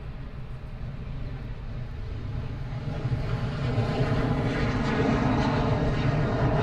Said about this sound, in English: This is Virgin America heading off to Seattle.